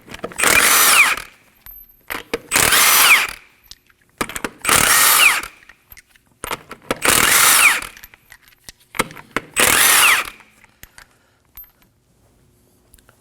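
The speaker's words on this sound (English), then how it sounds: "Using a 21mm socket, go ahead and remove the lug nuts." Impact gun loosening the lug nuts on a Kia Optima front wheel with a 21mm socket: five loud, close bursts of about a second each, evenly spaced with short quiet gaps between.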